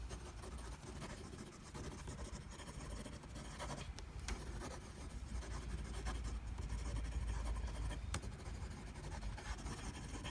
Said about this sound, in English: Let's just do a quick fast writing.